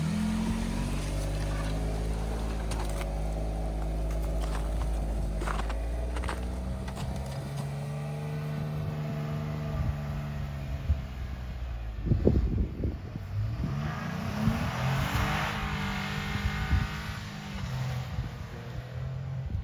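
A car engine labouring as the vehicle is towed up a slope during a roadside rescue, a loud droning hum that rises and falls in pitch, followed by clattering knocks and rough revving.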